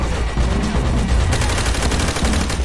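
Sustained machine-gun suppressing fire against enemy MG bunkers in Call of Duty: World at War, a loud, dense and continuous barrage of overlapping rapid shots with no pause.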